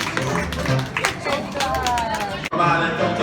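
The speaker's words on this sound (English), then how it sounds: "Let's have a round of applause for Joe." An audience claps for a participant in a show at Disneyland, a scattered burst of applause that runs beneath a performer talking into a microphone.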